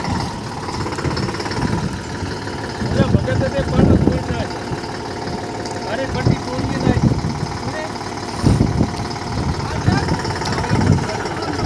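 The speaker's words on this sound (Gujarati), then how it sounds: "ટ્રેક્ટર ઉપડે એટલે તમને બતાવીશું।" A tractor engine chugs steadily in a farm field during black gram sowing, a rough mid-pitched running note with periodic louder bursts, under intermittent talk from people nearby.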